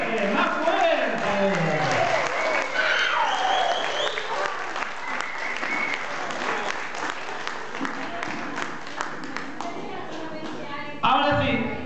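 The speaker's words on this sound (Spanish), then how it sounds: "¡Fuerte el aplauso!" An audience at a corporate event applauds loudly, a dense wash of clapping running throughout with music and voices layered over it, swelling near the end.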